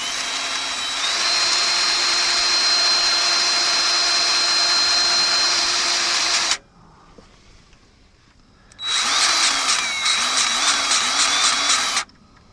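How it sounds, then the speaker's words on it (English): A Bauer 20-volt lithium-ion electric grease gun runs with a loud, steady motorized whine for several seconds, stops briefly, then runs again in a second shorter burst, close and alone. "I got this Bauer 20 volt lithium ion greasy gun here, electric grease gun"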